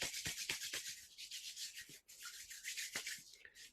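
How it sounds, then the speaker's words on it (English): Hands rubbing together close up in a quiet room, a soft brushing friction in quick repeated strokes with one short pause, no talking. "And then rubbing our hands."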